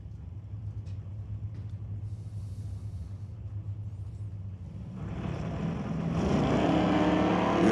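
A Dodge Dart drag car launches hard into a wheel stand at a drag strip, building from a low idling rumble to a loud roaring engine surge that swells toward the end, heard from a distance with no talk.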